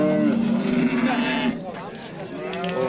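A Swedish breed cow moos in a long, drawn-out low call lasting over a second, followed by quieter lowing and faint background noise.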